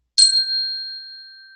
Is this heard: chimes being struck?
yes